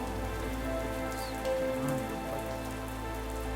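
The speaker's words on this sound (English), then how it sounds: "It is raining" Rain falls steadily in a VRChat roleplay setting, a dense even hiss with scattered drops, continuous and moderately loud with no talk over it.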